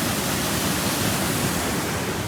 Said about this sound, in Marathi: धबधबा बघायला आलो होतो बघा